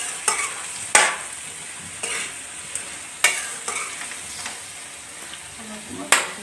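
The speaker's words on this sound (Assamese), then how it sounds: "মই ইয়াত এই কঁঠাল আৰু আলুখিনি ঢালি দি অলপ সময় ভাজি ল'ম" Jackfruit and potatoes tipped into hot oil and frying, with a soft steady sizzle broken by several sharp clatters of a spoon stirring against the pan.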